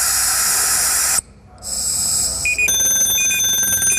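A firefighter's air pack sounds its full distress alarm: a loud, sustained piercing multi-tone shriek that cuts out briefly, then resumes with a warbling, stepped pattern of high tones.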